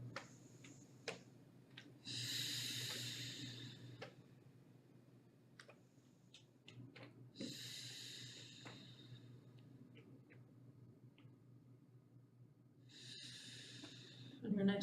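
Slow, deep breaths drawn during a twisting yoga pose, three long airy exhales rising and fading several seconds apart, close and quiet, with small clicks and ticks in the background.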